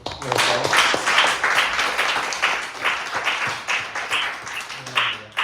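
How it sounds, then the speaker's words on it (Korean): A church congregation claps together during a joint Sunday worship service to welcome a visiting congregation, a sustained round of applause that rises quickly and then ebbs and surges unevenly before fading. "우리 서로를 환영하는 박수 내서"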